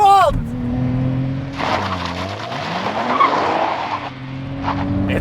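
A 2023 Nissan Z launches hard as its traction control cuts in and out, the tires squealing loudly over a rising, surging engine note.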